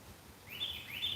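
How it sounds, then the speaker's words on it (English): Songbirds chirp in an outdoor garden, a few light high calls rising faintly over a soft, steady background hiss. "all of the birds are having themselves a good day today."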